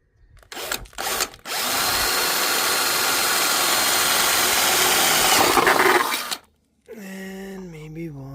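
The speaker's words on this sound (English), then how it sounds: "So let's drill some holes," A power drill bores into the body of a Xiaomi 4 Lite 2nd-gen electric scooter, giving a couple of short starts and then a loud, steady whine for about five seconds before stopping. A voice speaks briefly afterward.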